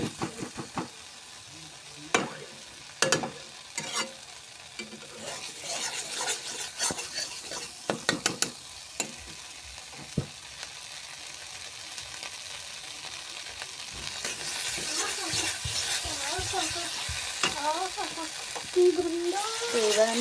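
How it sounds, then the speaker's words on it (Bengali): Onion, garlic and green chillies fry with spices in a home kitchen pan, giving a soft, steady sizzle broken by clinks and scrapes of a utensil against metal, with someone talking quietly in parts. "এখানে পেঁয়াজ, রসুন আর কাঁচামরিচ দুটো দিয়ে এটাকে ভালো করে কষে নিচ্ছি মশলাগুলো"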